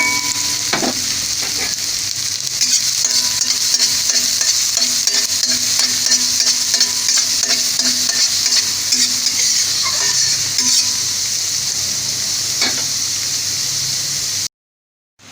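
Onions frying in a small amount of hot oil in a wok, a loud steady sizzle throughout with occasional scrapes and clinks of stirring, ending abruptly in silence.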